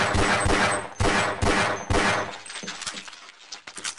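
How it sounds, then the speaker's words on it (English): Half-Life secondary fire that lets off two shots at a time, heard as loud close blasts in quick pairs around one and two seconds, then a quieter run of rattling clicks and small impacts. "Oh, it does two shots."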